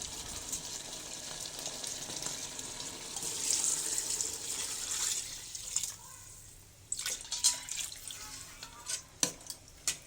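Water poured into a cooking pot of chicken for Khmer sour soup, a sustained splashing rush over sizzling that fades into scattered clinks and knocks toward the end.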